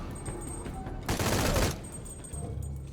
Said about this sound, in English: Who's actually shooting at us?